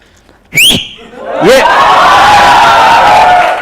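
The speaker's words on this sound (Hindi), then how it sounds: "सीटी मारना भी एक बहुत कला है" A man whistles during a lecture: a sharp rising whistle, then a second whistle that settles into a long, steady tone, loud and close, with a murmuring room behind it.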